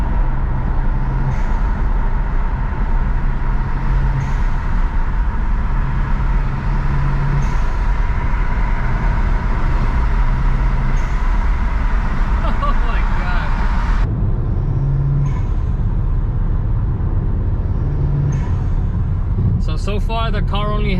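A car fitted with a VRSF charge pipe and HKS blow-off valve, otherwise stock downpipes and exhaust, drones steadily on the freeway with loud engine and road noise, while people talk over it.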